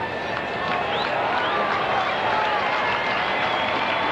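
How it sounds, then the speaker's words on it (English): A baseball stadium crowd at Milwaukee in the 8th inning roars steadily with cheering and applause, a sustained wash of distant noise throughout. "There's a crowd reacting to that 1-1 score we told you about, 8th inning at Milwaukee"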